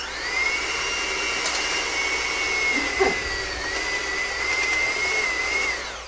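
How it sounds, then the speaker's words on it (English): An electric hand mixer beating cream cheese whirs steadily at high speed, a constant close motor hum with a slight pitch dip midway, no voices. "I'm going to use my mixer to get this done quickly"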